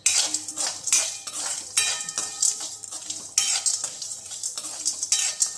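Gram flour (besan) and sugar roasted in a pan, stirred with a metal spoon in quick scraping strokes that clink against the pan over a faint sizzle, close and loud, with no one speaking.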